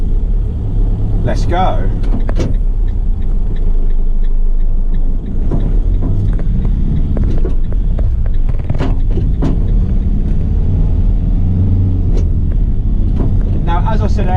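A 2018 Fiat Ducato six-speed recovery truck's engine runs and drives with a steady, loud rumble and road noise, while someone speaks briefly near the start.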